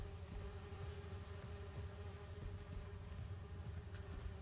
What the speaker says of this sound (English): I hate the swarming sounds